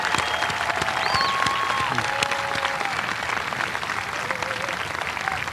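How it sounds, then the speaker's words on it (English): A dense, steady round of applause from a graduation ceremony crowd, many hands clapping continuously at close range with faint voices mixed in. "please rise for a round of applause"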